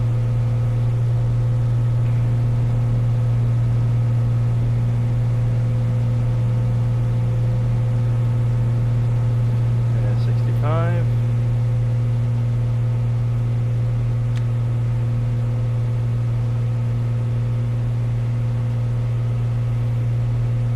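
A Cessna C182 in a flight simulator video game holds a steady, loud, droning engine tone throughout its takeoff roll, with a brief rising whine partway through.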